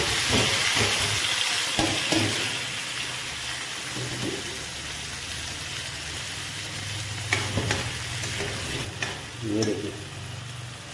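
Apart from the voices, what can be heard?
onions frying and being stirred in a pan for pork curry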